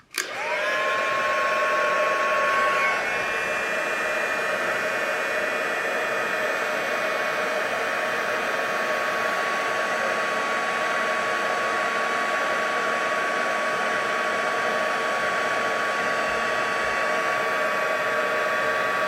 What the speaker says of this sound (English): I'm probably covering the embossed part up with my heat tool